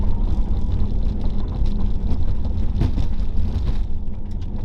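Porsche Taycan Cross Turismo electric car driving on a loose surface, a steady loud rumble and whir of tyres and motion, continuous and close, with no talk.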